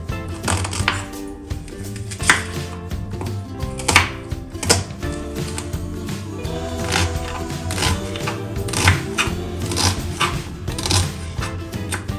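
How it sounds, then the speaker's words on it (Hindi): A knife finely chops onion on a board, rapid irregular tapping strikes repeating close by throughout, with faint background music under the chopping and no talking. "तो बारीक बारीक चॉप कर लेते हैं।"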